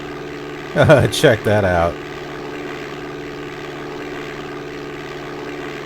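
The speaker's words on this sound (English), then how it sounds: "We managed to touch down and take off before that one plane that was coming through." A propeller aircraft engine drones steadily in the Flight Simulator 5.1 DOS game during a touch-and-go at Chicago Midway, a constant hum under a brief spoken remark near the start.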